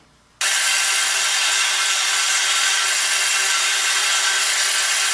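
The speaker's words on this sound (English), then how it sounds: "Now we're going to go ahead and do the concave areas with this spindle sander." A spindle sander grinds along the concave curves of a wooden electric guitar body, starting abruptly after a brief quiet moment and then holding a loud, steady, hissing abrasive roar to the end.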